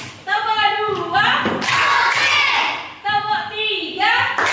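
Schoolchildren in a classroom clapping in a counted call-and-response pattern, short bursts of loud claps alternating with children's voices chanting, close and lively.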